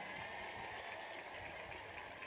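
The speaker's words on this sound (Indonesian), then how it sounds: "Tepuk tangan tuh Bu Atun." Steady applause from an audience at an Indonesian religious lecture gathering, a dense wash of clapping at moderate distance with no gaps and no talking over it.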